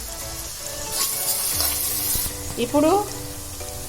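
Sliced onions, four of them, sizzle steadily in hot oil in a home kitchen pan, a broad hiss that swells partway through, with a few stirring scrapes and a brief word of speech.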